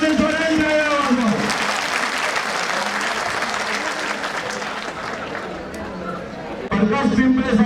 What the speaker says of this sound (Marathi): तरी आपण समाज बांधवांनी जोराने टाळ्या वाजवा.